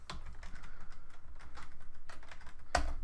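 Rapid keystrokes on a computer keyboard while launching Metasploit, a steady stream of close, soft clicks with one sharper, louder tap near the end.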